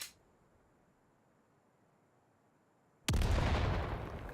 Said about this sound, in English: Oh, look at that explosion.